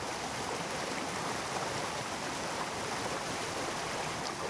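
A small creek flows in the woods with a steady, dense rush of water, close and constant throughout with no pauses or other sounds.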